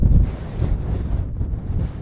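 Strong wind gusts over an open park-up in the Yorkshire Dales. Low, rumbling buffets hit the microphone in uneven surges across the whole stretch.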